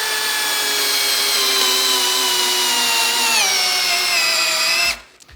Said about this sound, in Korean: 이번에는 스텝 드릴 25mm.